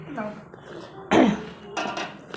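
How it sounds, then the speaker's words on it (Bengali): A single harsh cough from a person, loud and close, set among quieter indoor sounds. "এত কাশি সকালবেলা ঘুম থেকে উঠে বাইরের কাজকর্ম যখন করি সেদিনই দেখি আমার কাশিটা বেশি"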